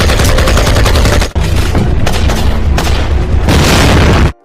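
Deafening, continuous gunfire and booming blasts from an Indonesian war film scene of fighting against Dutch soldiers and a tank, dense volleys filling the whole stretch with one brief gap.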